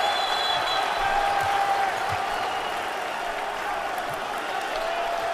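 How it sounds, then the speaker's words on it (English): Bosnian basketball fans cheer and clap in an arena during a EuroBasket game against France, a steady dense roar of crowd noise and applause that stays loud throughout, with a commentator talking over it. "Look at the Bosnia crowd right now"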